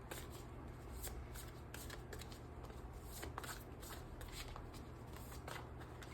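A deck of oracle cards being shuffled, giving a steady run of crisp papery riffles and flicks close up, with no voices over it.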